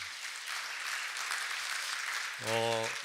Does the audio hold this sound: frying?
no